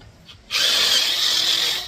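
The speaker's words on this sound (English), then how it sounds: "that's where I'm going to drill" Power drill boring a hole through a board while building DIY night fishing lights; a steady, loud whine starts abruptly after a quiet moment and holds close up to the end.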